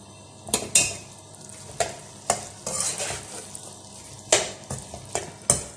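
Keema matar with garam masala and fresh coriander is stirred in a pan, with a spoon scraping in sharp, repeated strokes over a soft sizzle, close and alone.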